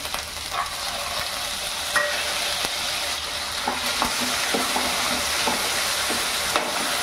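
Onion paste with ginger-garlic paste frying over high heat for egg paneer masala, a steady close sizzle with occasional scraping stirs and light taps of a spoon against the pan.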